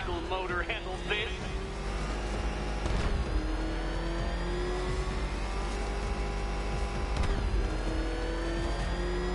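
Batmobile engine revving in the Batman Arkham Knight video game, a rising mechanical whine that climbs and drops in pitch over a steady low rumble, with a voice speaking over it.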